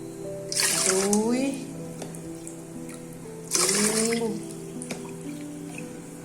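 Water poured into a pot of rice for a rice cooker in two separate splashing bursts, each rising in pitch as the vessel fills, with a steady hum underneath between the pours.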